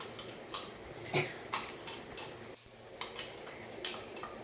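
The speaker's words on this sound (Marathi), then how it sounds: "ते तेलामध्ये मस्त आता परतून घ्यायचं आपल्याला" Green chili, mint and coriander paste stirred in hot oil in a pan, heard as scattered light metallic clinks and scrapes of a utensil against cookware over a soft background, with a few louder knocks near the start.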